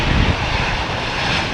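An airliner landing at London Heathrow Airport produces a loud, close, continuous engine roar with broad rushing noise, steady and without talk over its brief span.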